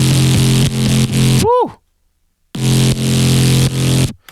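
Synth bass run through the Softube Amp guitar amp emulator in Ableton, with added OTT compression: loud, thick, distorted buzzing bass notes in short bursts, cut by a gap, a pitch-swept tone and a shout of excitement.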